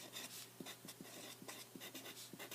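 A pencil scratches across paper in quick, irregular strokes while someone writes down figures from a calculator during a statistics problem. It is close and steady, with short pauses between strokes and no talking.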